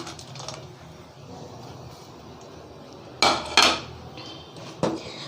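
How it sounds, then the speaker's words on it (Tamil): Roasted nuts being stirred into mango kesari in a pan: quiet background hiss, then a few loud metallic scrapes and clanks of a spoon against the pan near the end, without speech. "ஸோ இந்த டைமில் வந்து நம்ம ஆல்ரெடி வந்து வறுத்து வச்சுருக்கிற நட்ஸையும் சேர்த்துடலாம்."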